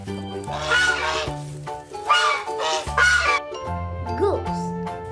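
A goose honking in several loud, nasal calls over a backing of simple tinkling music.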